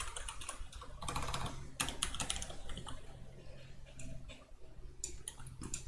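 Quiet, steady typing on a computer keyboard during a casual game development stream, rapid irregular key clicks in clustered bursts over a low room hum, with no talking.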